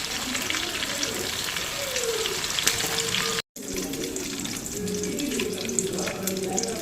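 Fish frying in a small pan with curry leaves gives a steady, bright sizzling hiss that fills the scene, broken by one brief silent gap midway.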